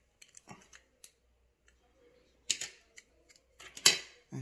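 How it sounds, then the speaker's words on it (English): A pair of scissors is handled near the microphone, giving scattered light clicks followed by a few sharper crisp snips and rustles with quiet gaps between them. "I have a pair of scissors."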